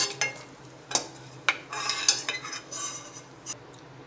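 A metal spoon scrapes and clinks against a pan as fried cashews are scooped out into a dish, with several sharp taps over a low background hum and no talking.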